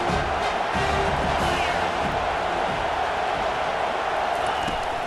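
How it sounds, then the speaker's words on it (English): Stadium crowd roars in a steady, dense wash of cheering throughout, loud and continuous, from a college football video game, NCAA 25, at USC. "This crowd knows when to bring it."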